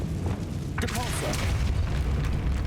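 Depulsor spell cast in Hogwarts Legacy, heard as a booming magical burst with a short whooshing shimmer over a continuous low rumble of game sound, loud and close, amid mixed effects and a voice.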